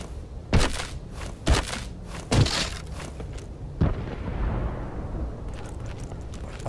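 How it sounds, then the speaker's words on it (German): A hand cannon fired in the survival horror game Conscript, several heavy booming shots spaced about a second apart, each with a short rumbling tail, fairly loud against a low background. "Also eben Kanone schießt."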